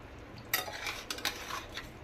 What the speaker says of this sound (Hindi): सुगर को भल भाव मिक्स करदे